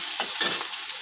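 Chopped onion with ginger-garlic paste stir-fried in a hot pan, a brief close burst of bright sizzling with quick stirring scrapes.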